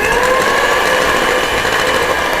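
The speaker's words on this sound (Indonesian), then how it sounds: "Lalu kita mixer." An electric mixer beating cupcake batter, a steady loud motorized whine with an even buzzing drone throughout and no voices.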